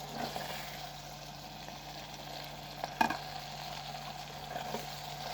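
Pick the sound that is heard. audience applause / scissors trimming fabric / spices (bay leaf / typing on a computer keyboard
spices (bay leaf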